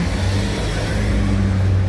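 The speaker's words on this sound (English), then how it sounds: "we see the Billboard Truck come by" A billboard truck drives by, making a loud, steady road rumble and engine drone that fills the whole stretch without a break.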